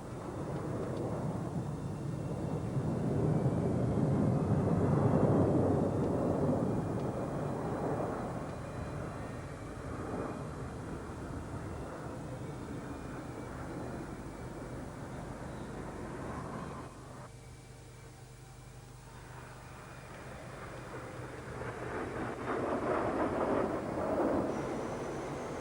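Swedish Air Force display team jets flying over the Royal International Air Tattoo at Fairford, a broad, rumbling roar that swells and fades, heard from a distance across open air.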